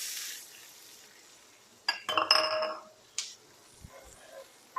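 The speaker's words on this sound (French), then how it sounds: "on va venir mettre les petites échalotes" Small shallots dropped into a hot frying pan with a steak, giving a quick burst of sizzling and spattering, with a soft hiss before and a few clinks after.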